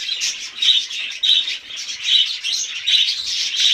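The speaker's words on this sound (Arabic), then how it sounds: "وهذا طائر ديال الكالوبسيد ديالنا الرائع" Pet cockatiel chirping in a bird sanctuary, a rhythmic series of bright, close chirps repeating about every half second with no talk.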